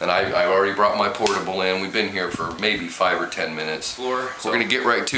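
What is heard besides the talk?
None of the usual background noises is heard.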